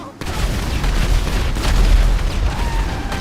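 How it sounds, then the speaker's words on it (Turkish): Bomb explosions in GTA 5's air raid mode: dense rumbling booms and crackling blasts fill the scene continuously, a chaotic barrage of explosions with a low, heavy thud underneath. "Şimdi geberirsiniz bak geliyor bombalar"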